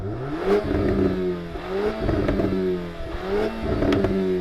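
A Volkswagen Golf R revved hard in R mode with no soft limiter, its engine note climbing and dropping in three repeated bursts, loud and close.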